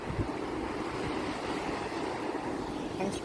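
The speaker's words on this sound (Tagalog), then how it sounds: "medyo malakas yung alon" Strong surf rolls onto Tubod Beach in Siquijor, a continuous, fairly quiet broadband wash of waves with wind, steady throughout without breaks.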